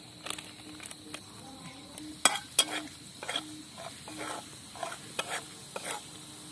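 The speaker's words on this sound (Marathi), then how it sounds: "आता हे मसाले असेच थोडा वेळ तळून घ्यायचे आहे तेलामध्ये" Spices fry in hot oil for egg bhurji, giving a soft steady sizzle, while a spoon stirs and scrapes the pan in repeated rhythmic strokes with a few sharper clinks, close and unaccompanied by speech.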